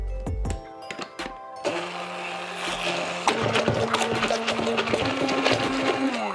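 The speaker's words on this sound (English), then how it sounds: "With my immersion blender, I'm gonna blend the sugar and the eggs." An immersion blender whirs through sugar and eggs in a kitchen, starting after a few clinks, then running as a steady buzzing motor hum that shifts pitch as it works, close and continuous.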